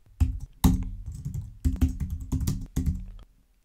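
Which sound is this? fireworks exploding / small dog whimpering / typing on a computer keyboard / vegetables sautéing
typing on a computer keyboard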